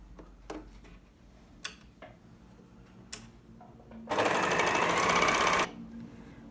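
An overlock sewing machine runs in one steady, loud burst of about a second and a half, stitching the seam allowance on a side-slit tunic, with soft handling taps before it.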